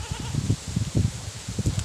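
A pregnant goat bleats in short, low, rapid pulses, several quick calls in a row, close and moderately loud.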